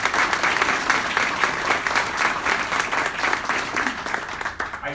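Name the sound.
audience applause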